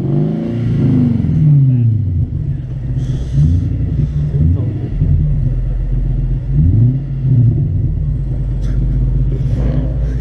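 A parked car at a cars-and-coffee meet revs its engine, deep exhaust rumble rising and falling in several pulls with a steady idle between, loud and close, with people's voices faintly underneath.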